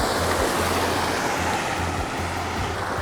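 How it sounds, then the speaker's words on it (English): Water tumbling down between rocks at the bottom of a gorge below a sluice-fed pond on an abandoned waterfall walk, a steady broadband rushing wash with no pauses, fairly loud and close, no voices. "You can see the water tumbling down between the rocks"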